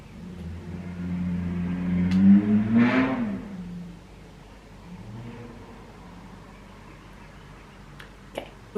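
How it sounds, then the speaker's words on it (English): Motorcycle passing outside a room, a muffled engine swelling to a peak then fading away as it goes by, moderately distant and alone, followed by quiet with a few faint clicks. "There's a motorcycle outside now."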